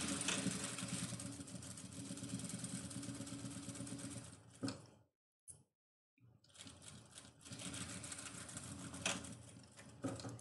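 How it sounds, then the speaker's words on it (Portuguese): A sewing machine runs a safety seam along a fabric edge, a steady close mechanical whir that stops briefly midway, then resumes and continues to the end. "Costura de segurança,"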